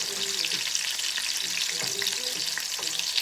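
Garlic sizzling in a hot pan as it goes in, a steady bright crackle with faint scraping stirs, alone and close.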